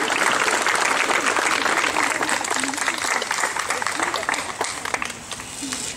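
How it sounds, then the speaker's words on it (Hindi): Loud, steady applause from a large crowd of school kids and audience fills the whole stretch, dense and continuous, easing off slightly near the end. "जोरदार तालियां"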